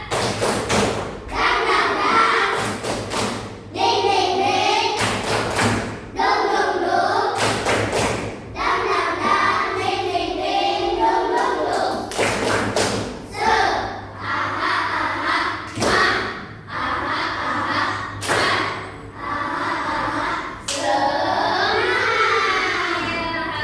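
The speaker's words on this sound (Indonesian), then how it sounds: "Ayo, tepuk semangat." A group of children clap a rhythmic spirit-clapping chant together, a brisk series of sharp thuds and claps in patterned bursts that stays loud and close throughout, with voices joining in along the way.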